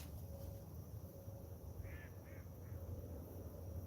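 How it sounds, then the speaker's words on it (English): Ducks by the water at night give a few short quacks, faint and at a distance, over a steady low outdoor rumble. "We got ducks out here making noise."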